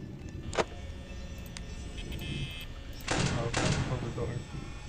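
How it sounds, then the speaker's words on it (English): In the Five Nights at Freddy's video game, a security door slams shut with a sharp bang, followed by a mechanical rattling whoosh, while a person talks over the game. "Oh, close the door."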